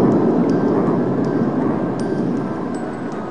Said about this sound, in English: it's the sound of lightning striking the open water